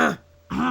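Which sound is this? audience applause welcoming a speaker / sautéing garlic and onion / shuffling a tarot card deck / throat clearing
throat clearing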